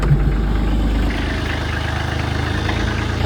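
A cold diesel truck engine running just after a winter start, with a heavy low rumble that shifts and settles into a steady, rhythmic idle, near and loud, no voices.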